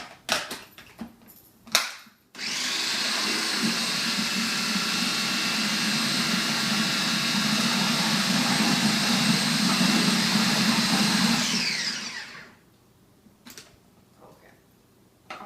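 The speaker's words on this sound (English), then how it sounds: "I'm just going to mix this up again." An electric mixer whirs steadily for about ten seconds as it beats key lime pie filling with vanilla, a loud even motor drone that starts abruptly and winds down, framed by brief clatter.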